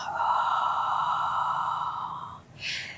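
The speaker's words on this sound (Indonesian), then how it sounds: "Inhale, exhale." A person breathes out in one long, audible exhale during a breathing exercise in a shoulder-strengthening workout. A short, softer breath follows at the end.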